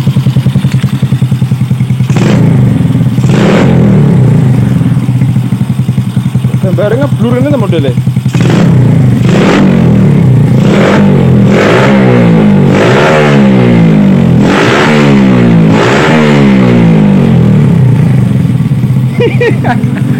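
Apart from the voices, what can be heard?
motorcycle engine revving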